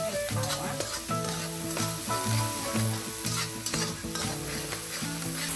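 Blended chili sizzling and frying with pork ribs in a wok, loud continuous crackle with repeated scraping stirs of a spatula, close up and free of speech.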